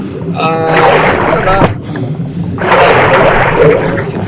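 Loud, close water splashing and sloshing from a character wading through water in the video game ARK comes in two sustained bursts with a short pause between them.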